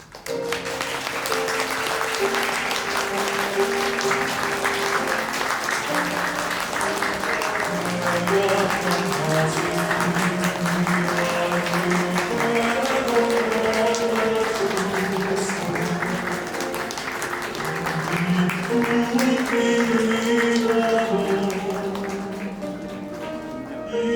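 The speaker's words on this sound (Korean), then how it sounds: "양가 어머님께서 입장하시면 따뜻한 박수로 두 분을 맞이해 주시기 바라겠습니다" Wedding guests at The Convention wedding hall in Yeongdeungpo applaud steadily as the mothers enter, the sustained clapping blending under continuous loud music.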